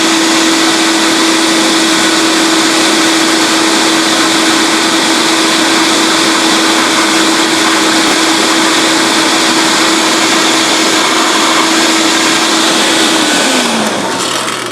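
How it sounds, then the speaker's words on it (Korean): A hair dryer blows loudly and steadily with a constant whine while drying a treated spot during stain removal, then winds down at the end as it is switched off. "헤어드라이기로"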